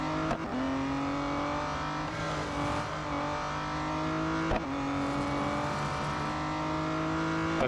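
A race car engine in the racing game Real Racing 3 during a night race holds a loud, steady high whine with pitch shifts as it revs and shifts gears, alone without talk.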